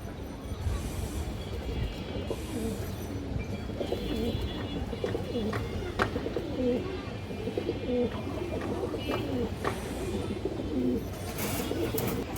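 Pigeons kept for sale, including big Sabji Giribaz and high-flyer breeds, cooing in repeated soft low calls amid a busy background of chirps, clatter and murmuring voices.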